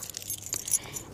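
Keys jangling in a brief, close metallic rattle of small clinking hits, heard alone without talk.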